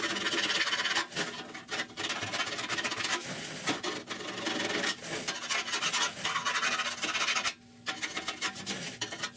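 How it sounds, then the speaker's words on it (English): Hand file rasping across a metal patch panel welded into a rusted 1969 Chevrolet C10 core support, loud and close, in long steady strokes with brief pauses, no talking. "You file like this."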